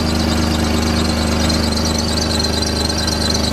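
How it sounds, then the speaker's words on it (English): A 2006 Honda Ridgeline with a 3.5-liter VTEC V6 and 186,000 miles runs with a loud, steady belt squeal over the close engine drone, constant throughout with no speech. "Apologize for the belt squeal, but she is running fine."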